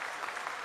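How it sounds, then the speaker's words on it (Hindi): Inside ISRO mission control during the Chandrayaan-3 Moon landing, a roomful of people applauds, a dense, even roar of clapping heard briefly and fairly close. "आप तालियों के गड़गड़ाहट से सुन सकते हैं"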